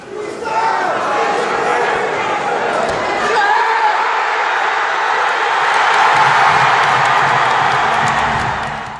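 A packed arena crowd at an Olympic weightlifting competition in Atlanta roars and cheers loudly, a thick continuous wall of shouting that swells after a brief dip and stays intense to the end.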